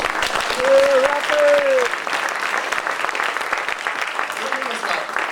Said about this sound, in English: So how about we give our technical man a round of applause?